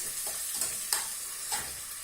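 Onions frying in oil in a pot over an open fire, a soft steady hiss with occasional stirring scrapes and clicks close by, no talking.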